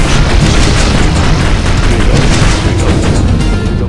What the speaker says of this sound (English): play the attack fast so you can get the missiles in there. Get a couple more missiles in there.